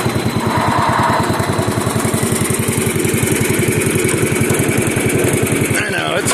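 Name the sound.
Bolens tractor engine running while being driven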